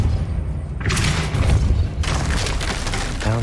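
Depulso, a force-push spell in the game Hogwarts Legacy, is cast as a loud booming whoosh with impact thuds that repeat over a few seconds and sit on top of dense game noise.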